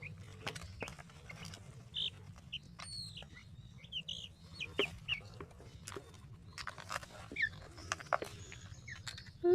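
Organic chickens cluck and squawk close by at feeding time, over a steady low hum, with scattered sharp calls and bird chirps around them.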